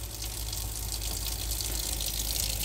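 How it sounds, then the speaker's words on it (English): Water runs steadily from a tap in a 2016 Swift Sprite Alpine 2 caravan, fed by an onboard water pump, giving a continuous close gushing hiss with a low pump hum beneath it and no talking. "Cold first, run some water,"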